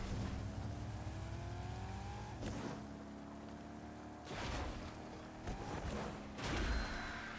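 A car in Fortnite drives with a steady engine drone whose pitch rises through several gear shifts, continuous and moderately loud with bursts of extra noise.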